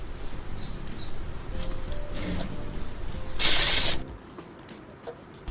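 A sewing machine stitches folded blouse fabric, giving a steady low mechanical clatter that swells into a short, louder whirring burst before dropping away to near quiet.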